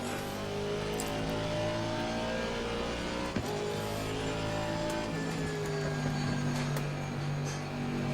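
A GT race car engine in Assetto Corsa Competizione roars steadily and loudly throughout, its tone rising and falling with revs as the car drives with the rear end sliding, with no talk.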